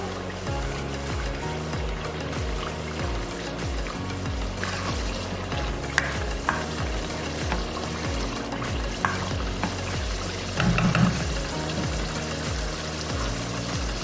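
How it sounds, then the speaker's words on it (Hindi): Ginger garlic paste sautéing in a pan for kofta karahi, a steady soft sizzle with stirring scrapes and a few sharper clicks of a spoon against the pan, close and continuous without talk. "अब मैं इसके अंदर 2 टेबलस्पून जिंजर गार्लिक पेस्ट डालती हूँ। अब हम इसको भूनेंगे थोड़ा सा।"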